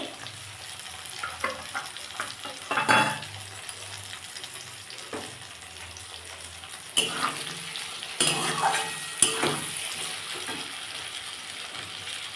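Ginger paste dropped into a pan of frying potatoes for a radish ghanto, giving a soft continuous sizzle with occasional louder bursts and metallic scrapes as a spatula stirs, close and without talk.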